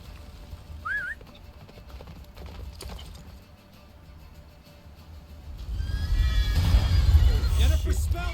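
Roach the horse gallops in The Witcher 3, a muffled clip-clop of hooves building into a louder rush of movement and wind toward the end, with a voice speaking over it.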